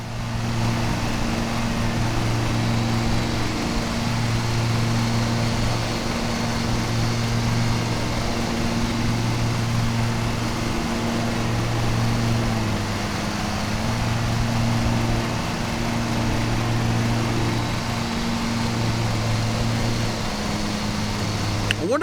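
A lawn mower engine runs steadily in the video game Lawn Mowing Simulator, a loud, constant droning hum that holds for the whole stretch with no change.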